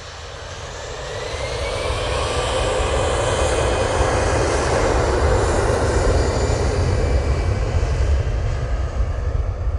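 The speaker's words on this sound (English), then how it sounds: "that Easyjet, as you can tell from the very early rotation, is not going very far" An easyJet airliner takes off from Manchester Airport bound for Bristol, its jet engines swelling over the first two seconds into a loud, sustained roar that holds steady as it climbs away.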